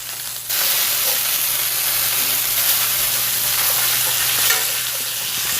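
Pork stir-fry frying in a hot pan gives a loud, steady sizzle and hiss that starts abruptly and holds constant throughout, with no talking.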